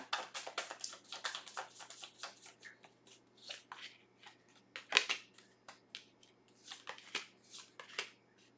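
Tarot cards shuffled by hand at close range, a quiet, continuous run of soft riffling flicks and snaps, each burst crisp and brief, with one sharper slap partway through.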